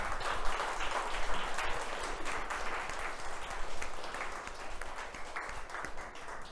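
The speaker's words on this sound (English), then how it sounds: "Please join me in giving our CATalyze speakers a warm round of applause." An audience applauds speakers at the CATalyze 2022 event steadily for several seconds, a dense, even patter of many hands clapping, heard from a moderate distance.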